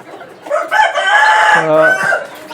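A native deshi rooster crows loudly and close on a poultry farm, one long drawn-out call ending in lower clucks, with almost no talk around it.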